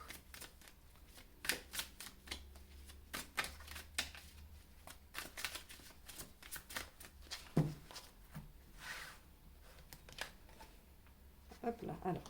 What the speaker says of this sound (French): Je vais déjà faire mon tirage.